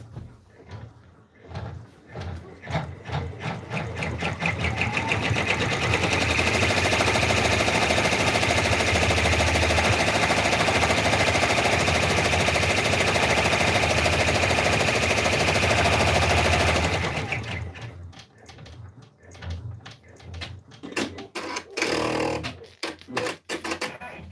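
Embroidery machine running a fill stitch on fabric in the hoop for a raccoon stuffed toy, a steady loud buzzing drone that builds for several seconds and then stops, with clicking and rattling at the start and end.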